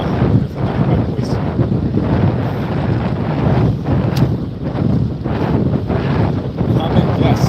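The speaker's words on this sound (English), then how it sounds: "I feel like it's super windy right now." Strong wind buffets the microphone on a live bike ride into a headwind, a loud, constant rushing roar with gusty swells and no clear speech above it.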